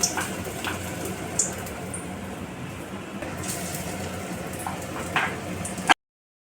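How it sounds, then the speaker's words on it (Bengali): Fritters of soybean, onion and gram flour bubble and sizzle in hot oil, a soft continuous frying hiss with occasional small pops, cutting off abruptly at the end. "এখানে দেখো বড়াগুলো ভেজে নিচ্ছি"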